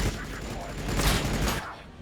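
Heavy gunfire in the strategy video game Warhammer Battlesector, a dense rattling fusillade with a loud burst in the middle, then fading toward the end.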